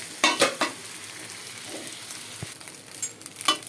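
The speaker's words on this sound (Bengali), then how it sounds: "এই খুদটা দিয়ে আর ডাল দিয়ে এখন ভাজা হবে।" Broken rice and lentils frying in a pan with chopped ginger and onion give a soft, steady sizzle, broken by a few sharp stirring scrapes near the start and again toward the end.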